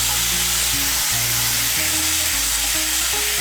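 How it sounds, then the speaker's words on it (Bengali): Ginger paste loosened with a little water sizzles and fries steadily in a hot pan, a continuous close crackle with faint stirring scrapes. "এর মধ্যে দিয়ে দিচ্ছি 1 বড় চামচ আদা বাটা।"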